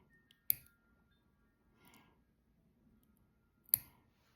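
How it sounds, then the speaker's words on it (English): Nail clipper trimming press-on nails to length, two sharp distinct clicks about three seconds apart, close and crisp in a quiet room, with a faint rustle in between. "I'm just gonna take a nail clipper and I'm gonna trim these to length"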